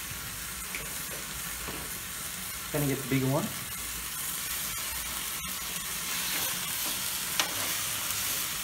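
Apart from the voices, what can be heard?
T-bone steak sizzling in canola oil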